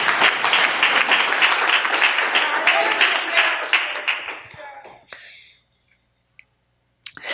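A church congregation claps loudly together during a sermon, dense sustained applause for about four seconds that thins out and stops, followed by near silence and a brief sound near the end.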